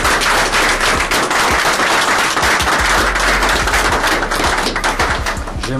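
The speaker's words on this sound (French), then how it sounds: "J'aimerais que vous puissiez applaudir pour le chef de l'État" A large audience claps in sustained applause for the head of state at a public ceremony, dense and loud throughout with no gaps.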